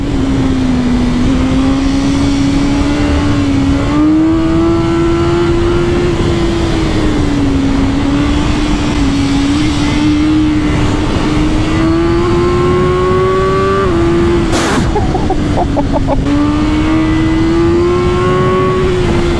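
A BMW S1000R motorcycle engine drones loud and close while riding, its steady high pitch rising and falling through gear changes with a brief rush of wind near the end.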